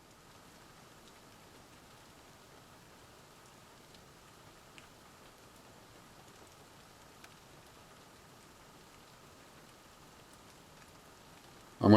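Steady rain falling outside, a soft even hiss with faint scattered drops and ticks, continuous and fairly quiet throughout with no voices.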